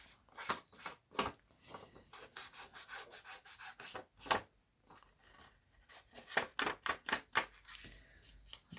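Journal page corners being distressed with a hand tool on a thrifted colouring-book junk journal, giving a close, dry scraping and rubbing in quick irregular bursts with short pauses between strokes.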